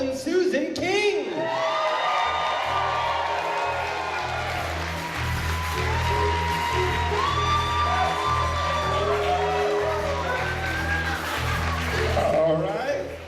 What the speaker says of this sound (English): can I please get a big round of applause for Sarah's parents